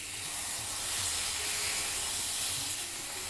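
Chicken sizzles in a pan as it cooks on its second side, a steady, close hiss of frying that stays even throughout with no talk over it.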